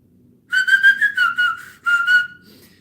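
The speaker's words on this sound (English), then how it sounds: "I'm also famous for teaching people how to whistle with no hands." A person whistles without using their hands, a clear, close melodic tune in a few quick bursts with a short pause, then a final held note.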